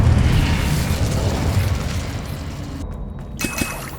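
A fire spell cast in the Hogwarts Legacy video game bursts with a booming, roaring blast. A dense wash of noise fills the moment, followed by a short drop-out and a few sharp pops near the end.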